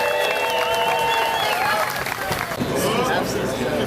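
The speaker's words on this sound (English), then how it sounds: "Let's give him a big round of applause." Loud crowd applause and cheering at an outdoor festival, a thick continuous roar of clapping with whistles and shouts layered over it, and crowd chatter mixed in.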